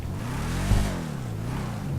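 A Vapid Ellie muscle car in GTA 5 idles with a low, rumbling engine note and a brief throttle blip, steady and close with no talk.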